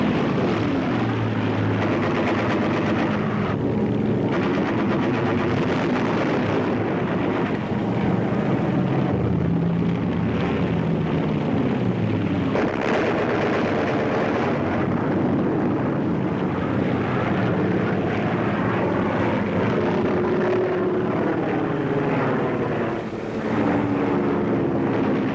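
WWII propeller fighters and bombers roar continuously during a Battle of Britain air engagement, a dense, loud, sustained engine drone with shifting pitch and no voices.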